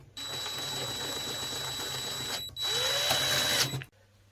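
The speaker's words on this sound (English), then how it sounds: "then you drill the hole in the center for this to drop into" A power drill whines steadily while drilling holes through a metal plate, pausing briefly before revving up again louder, then stopping abruptly.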